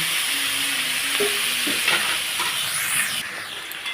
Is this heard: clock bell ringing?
no